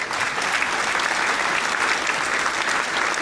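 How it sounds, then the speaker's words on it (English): A crowd applauds in a steady, dense round of clapping that holds evenly loud from start to finish, with no voices standing out. "Round of applause."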